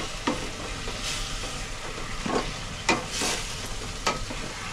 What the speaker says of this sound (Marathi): दोन मिनिटं आहे ना अशी चांगली परततच राहायची, ढवळत ढवळत राहायचं.